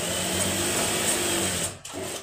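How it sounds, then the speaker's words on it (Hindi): A sewing machine runs a straight seam on a churidar pajama with a close, steady whirring hum that cuts off briefly just before the end. "ये सीधी सिलाई अपनी आ जाएगी"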